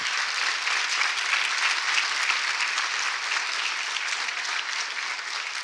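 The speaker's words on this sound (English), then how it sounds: "give yourself a big round of applause" Sustained applause from a sizable audience at a university commencement ceremony, a dense, even patter of clapping that holds steady throughout.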